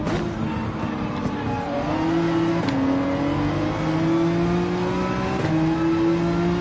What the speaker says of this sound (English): let's rev this engine right out.